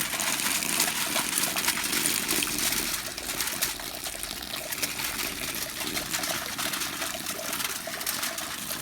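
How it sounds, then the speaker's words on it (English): Hot water at about 76 to 77 degrees pours steadily onto malted grain during a home-brew beer sparge, making a continuous close trickling splash that dips slightly partway through. "So we're just about to do the sparge."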